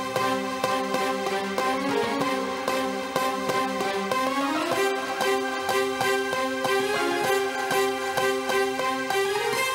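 A Pokémon Gen 4 battle theme verse plays as video game music, a loud, steady, busy synth arrangement with driving percussion and a repeating melody. It runs continuously for about ten seconds without any talk.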